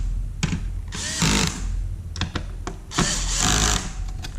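A power tool drives in screws on a Dell PowerEdge R410 server during final tightening, giving two short, whirring bursts separated by quieter handling sounds.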